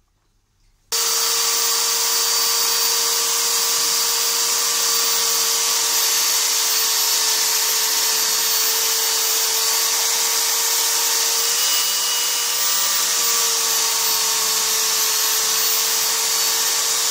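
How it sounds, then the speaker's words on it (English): A clamp-mounted power sander grinding the cut edge of old skateboard wood, starting abruptly after a moment of silence, then a steady, loud, high whine with a constant tone that continues unbroken to the end. "Now I sand the cut imperfection. The sander is fixed with a clamp."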